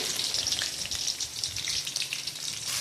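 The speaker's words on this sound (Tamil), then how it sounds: "இப்போ நான் வெங்காயம் போட்டுட்டேன்." Sliced onion fries in a hot pan, giving a steady, close crackling sizzle with no talking.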